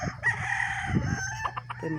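A chicken clucks and squawks up close in short, agitated bursts, loud and continuous across the brief moment.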